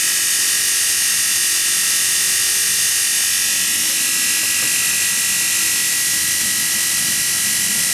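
A rewound Bosch 750W electric motor runs steadily at 2700 RPM, a loud continuous high-pitched whine with a constant hum and no breaks, alone without talk.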